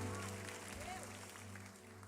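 A church congregation applauds during a sermon, a broad wash of clapping that carries steadily throughout, layered with a sustained musical drone and a voice rising over it.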